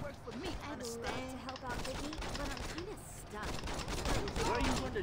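Rapid gunfire from the Saints Row video game rattles in bursts under a steady game soundscape, with voices talking over the shooting throughout.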